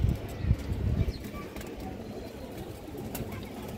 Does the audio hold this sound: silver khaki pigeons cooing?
yes